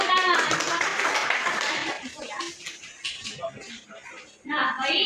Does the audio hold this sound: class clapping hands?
yes